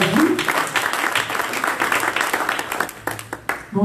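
A church congregation applauding in a steady, dense wash of clapping that tapers slightly toward the end, with voices mixed in beneath the applause.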